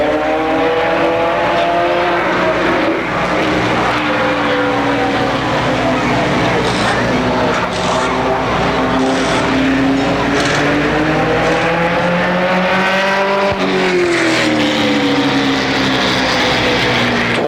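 Late model stock cars race around the Motordrome Speedway oval, several engines droning and rising in pitch together at close range, loud and continuous for the whole stretch.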